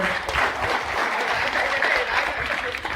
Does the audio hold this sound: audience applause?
yes